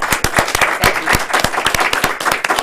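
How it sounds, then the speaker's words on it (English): Audience applause at a Toastmasters humorous speech and impromptu speaking contest in Cincinnati, a dense run of close claps that continues for almost three seconds with no one talking over it. "So how about a round of applause for it?"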